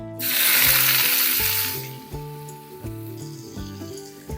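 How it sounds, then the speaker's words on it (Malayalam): Five thinly sliced onions drop into hot oil for a Kerala-style chicken roast, bursting into a loud, broad sizzle that swells for nearly two seconds and then settles to a softer fry under background music. "നല്ല ചൂടായിട്ടുണ്ട്. നമുക്കിതിലേക്ക് സവാള ചേർത്ത് കൊടുക്കാം കേട്ടോ."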